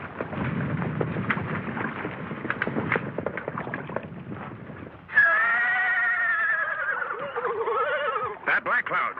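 A loud, drawn-out horse whinny rises and wavers near the end, following rough rumbling noise and commotion.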